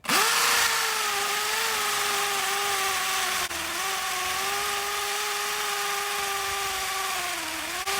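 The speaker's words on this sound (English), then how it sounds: "his hammer drill" A hammer drill runs steadily at close range drilling holes for termite treatment along a ditch, a loud continuous whine with a brief dip in pitch midway, then resumes without pause.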